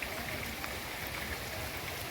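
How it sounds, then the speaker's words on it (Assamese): Steady rain falling at a temple high on a hilltop, a dense even patter over a wide area with no voices. "ইয়াত বৰষুণো পৰি আছে"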